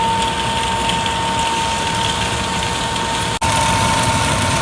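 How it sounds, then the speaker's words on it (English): A kitchen exhaust fan runs steadily, venting peppery smoke from cooking outdoors, with a constant close broadband whoosh and a faint tonal hum, briefly cutting out for an instant before resuming. "I've gone ahead and turned on the fan here, and that'll vent the peppery smoke outside"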